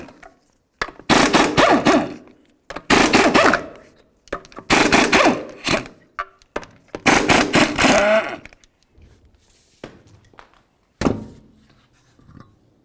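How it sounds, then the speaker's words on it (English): An impact wrench removes 19mm lug nuts from a 2000-2005 Buick LeSabre wheel, loud close rattling bursts of about a second each, four in a row, then a shorter final burst after a pause. "remove all 5 of your 19mm lug nuts and then the wheel"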